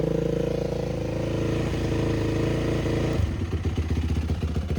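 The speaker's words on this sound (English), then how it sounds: "Very loud bike, very loud." A 2004 Yamaha YZ450F dirt bike engine running in cold weather, loud and close, shifting from a steady drone to a lumpy, pulsing idle near the end.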